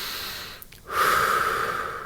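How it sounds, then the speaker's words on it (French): A person breathes out slowly through the mouth during a relaxation breathing exercise for sleep. After a brief pause, the exhale comes as a steady, breathy rush lasting over a second, close to the microphone. "Là, j'expire avec la bouche, mais tu peux expirer avec le nez."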